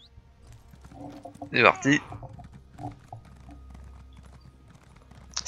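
Horse hooves clip-clop at a gallop in The Elder Scrolls Online, a steady rhythmic beat under someone speaking French, with a louder burst of talk partway through.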